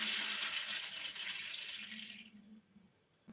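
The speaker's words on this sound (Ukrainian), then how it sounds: "Квасолю заливаємо водою і залишаємо на ніч." Water pours steadily from a tap over dry beans in a kitchen, a bright continuous gush that runs for over two seconds and then cuts off, leaving a faint trickle and quiet room tone.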